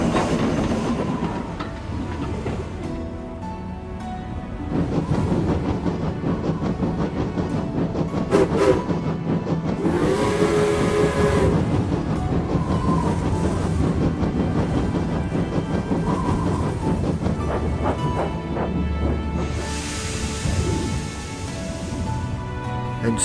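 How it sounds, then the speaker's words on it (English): A steam engine rumbles along the rails, its pistons pounding under a continuous heavy roar with rhythmic clacking and a brief whistle-like tone in the middle, loud and close throughout. "Thomas then heard the pistons pounding the rails."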